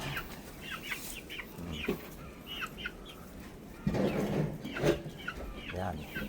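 Raptor sweater and Gilmore hatch chickens cluck and call in a simple breeding pen, several short bursts from different birds at moderate distance over a soft outdoor background.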